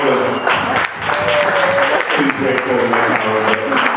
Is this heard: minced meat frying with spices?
no